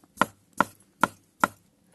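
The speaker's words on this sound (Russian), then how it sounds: "Соленый огурец," Four evenly spaced knife chops on a cutting board, crisp and close, as a pickled cucumber is diced at a steady pace for cooking outdoors over a campfire.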